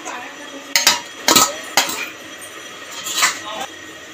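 An empty bowl is handled for panta bhat, giving several sharp ceramic clinks and knocks in quick irregular bursts, close and fairly loud, with no talking over them.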